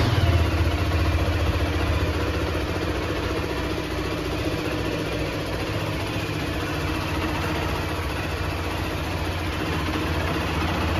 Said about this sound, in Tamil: எக்ஸாஸ்ட்டு ஒரு டுவல் எக்ஸாஸ்ட் பைப் வந்து கொடுத்துருக்காங்க. சவுண்டு சீருதுங்க வண்டி ஸ்டார்ட் பண்ணோன்னு,